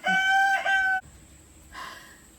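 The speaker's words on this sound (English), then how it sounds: "that rooster hates me" A rooster crows loudly nearby, one long harmonic call that breaks off abruptly, followed by quieter rustling.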